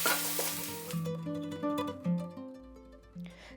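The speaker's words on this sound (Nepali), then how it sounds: "तातो तेलमा 1 टेबलस्पुन लसुन मसिनो चप गरेको एड गरेर यसलाई हल्का रातो हुइन्जेलसम्म" Finely chopped garlic fries in hot oil in a wok, a bright sizzle that quickly settles into softer crackling, with clinks from stirring and a few utensil taps.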